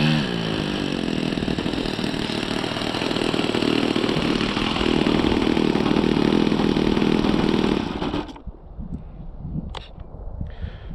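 A 10cc (0.65) nitro four-stroke engine on an H-King Tiger Moth balsa model plane runs loud and steady up close for about eight seconds, then cuts out abruptly, leaving faint knocks and ambient noise.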